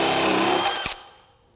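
A DeWalt DCD999 FlexVolt Advantage cordless drill on a 20V 5.0 Ah battery drives a 1¼-inch bit, clogging with chips, into wood with a loud, strained whine that cuts off abruptly and then winds down.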